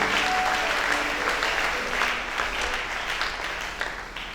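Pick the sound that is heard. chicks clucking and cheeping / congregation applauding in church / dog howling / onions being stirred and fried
congregation applauding in church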